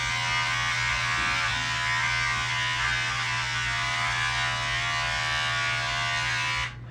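A Remington SCC-100 electric hair clipper buzzes steadily and loudly up close for several seconds with an even hum, cutting off abruptly at the end.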